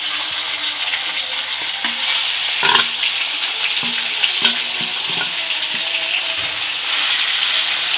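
Marinated chicken pieces sizzle and fry steadily in a pan with browned ginger garlic paste, a continuous close crackle with a few louder pops and stirring scrapes along the way.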